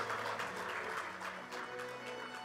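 Families applaud at a graduation ceremony in Santiago, a dense, continuous clapping from a crowd that holds steady for a couple of seconds.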